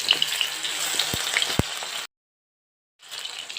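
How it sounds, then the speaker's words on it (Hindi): Capsicum pieces coated in gram flour fry in a pan with a steady sizzle and scattered pops, then cut to silence for about a second before the frying returns. "अभी ज़्यादा फ्राई नहीं हुआ है ना, और थोड़ा फ्राई करना पड़ेगा"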